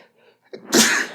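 A single loud, close sneeze: a short breathy intake, then a sharp burst of noise, heard alone.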